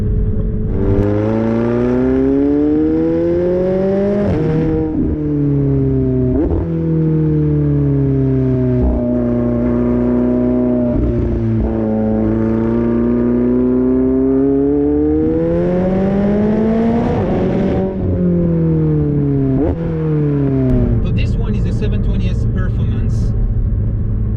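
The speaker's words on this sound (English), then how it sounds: "So I have a sport exhaust system." A 2019 McLaren 720S's factory sport exhaust revs repeatedly up and down, loud and close, in a deep rising-and-falling drone over about twenty seconds.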